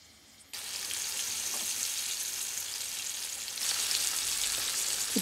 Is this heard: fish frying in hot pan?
yes